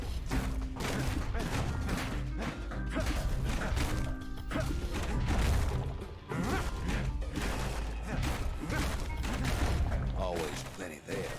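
Objects being smashed in the video game Bastion: a rapid run of loud crashes and thwacks, with breaking debris and clattering hits repeating over several seconds amid game music.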